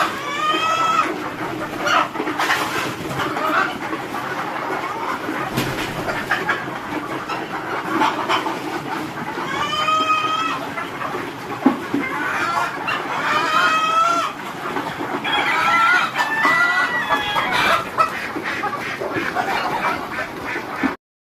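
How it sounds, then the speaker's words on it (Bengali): Egyptian Fayoumi chickens at a poultry farm cluck and call steadily as a busy flock, with repeated rising squawks and an occasional crow-like call, close and fairly loud throughout with no talking. "এটি হচ্ছে আমার মিশরিয়ান ফার্ম মুরগির খামার।"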